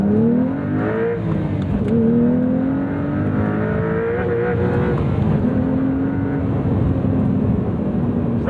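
A 2026 Porsche 911 Carrera T (992.2) flat-six revs up toward its 7,200 rpm redline, loud and close, with rising and falling engine harmonics sweeping through repeated pulls over a steady rumble.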